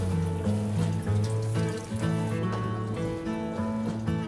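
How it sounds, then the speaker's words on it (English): Water pours and splashes during a water change in a classroom trout tank, a continuous gush close by with a musical backing throughout. "We're going to do a water change, okay?"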